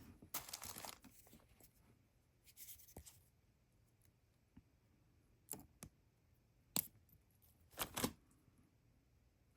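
Wrapped jewelry wire trimmed for daisy statement earrings, a few sharp, faint snips and small clicks scattered among quiet handling rustles, close up with no talking.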